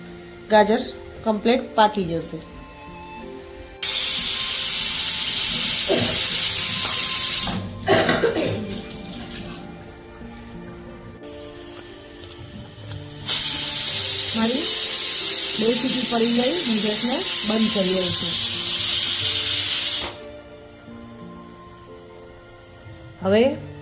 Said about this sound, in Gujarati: બધી હવા નીકળી ગઈ છે કુકર ઠંડુ થઈ ગયું